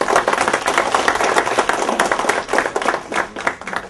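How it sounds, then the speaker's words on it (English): An audience at a victory party claps in a burst of lively applause, dense and close, with no talking over it. "a big round of applause to the Asian community"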